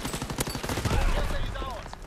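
Rapid bursts of automatic gunfire and machine-gun rattle in a war video game, close and dense over a couple of seconds, with a heavy thump partway through and a voice speaking briefly.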